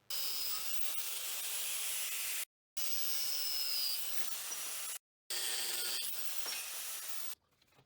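M20 all-thread rod is sawn into 100 mm pieces in three continuous rasping runs separated by brief pauses, close and steady, with no talk.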